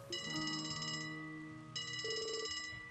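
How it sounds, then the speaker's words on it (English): A phone rings in the video game Trails to Azure with a bright electronic ringtone in two repeated trilling bursts, clear and steady over soft game music. "Hey, we got a phone call."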